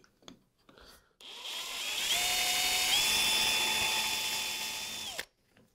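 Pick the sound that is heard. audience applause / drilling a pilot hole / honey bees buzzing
drilling a pilot hole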